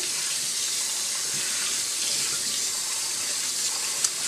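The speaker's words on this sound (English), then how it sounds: "Let's rinse and drain the rice with cold water using a fine mesh strainer." Cold tap water runs steadily through rice in a fine mesh strainer into a sink, a constant bright splashing rush with no voices.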